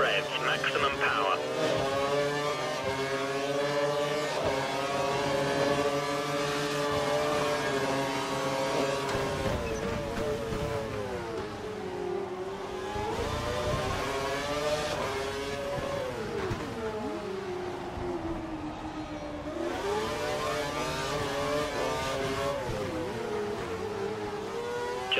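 Formula 1 race cars in the F1 2012 video game at the Singapore Grand Prix, engines screaming at full revs with rising and falling pitch through gear changes, continuous and loud, with a voice talking over it.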